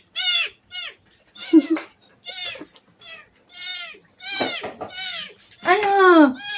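A hungry cat meows repeatedly and insistently, begging for food, with loud rising and falling cries in an irregular series and one low drawn-out meow near the end, close to the listener.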